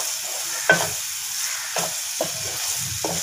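Green chillies fry in a hot oil tempering (bhagar) for Hyderabadi moong daal, a steady bright sizzle with a few soft taps of a spoon against the pan.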